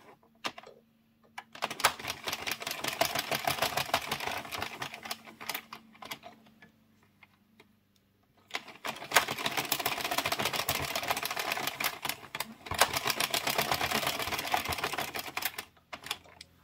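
An addi circular knitting machine cranked by hand, a dense, even clicking clatter of needles running in two long stretches with a pause between, close and moderately quiet.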